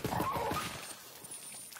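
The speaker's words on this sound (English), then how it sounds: "Puppy dog sounds." A puppy dog in the video game Borderlands 3 whimpers briefly and faintly, giving a few soft whines near the start before fading into quiet game ambience.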